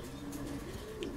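A domestic pigeon from a breeder's loft of starling-marked birds coos in a low, steady rolling murmur, close and moderately loud, over a short stretch of about a second.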